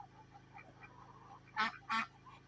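Two loud, close goose honks ring out in quick succession over a low rural background hum during an evening with farm birds at an off-grid homestead.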